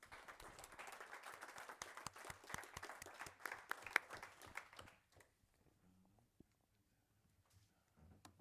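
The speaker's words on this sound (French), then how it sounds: "On peut applaudir." Applause at a French municipal council meeting, a dense burst of many hands clapping for about five seconds before fading to a quiet room with scattered claps.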